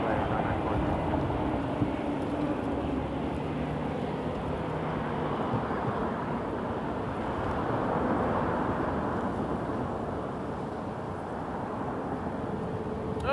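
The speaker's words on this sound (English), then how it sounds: "Oh, there's a Flare Max 8 coming in. Runway 23." A Flair Boeing 737 MAX 8 on final approach to runway 23 at Toronto Pearson gives a steady, broad jet roar that holds at even loudness throughout, with wind noise and voices faintly underneath.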